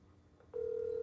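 An outgoing phone call connects: after a brief click, a steady single ringback tone starts and holds, clear and close with nothing else over it.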